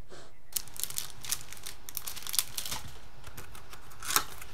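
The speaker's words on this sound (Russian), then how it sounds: "Вот это обыкновенный пакетик." A thin plastic packing bag, the kind used for PlayStation 3 or DVD boxes, crinkles and rustles in short irregular bursts, fairly faint and close by, with no talking over it.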